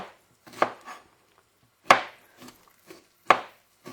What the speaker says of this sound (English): you'll probably just see me chopping